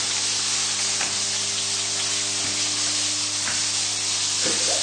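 Cod fillets with a coriander and lemon crust sizzle in a lidded frying pan, a steady loud hiss with a few soft knocks as the pan and lid are shaken.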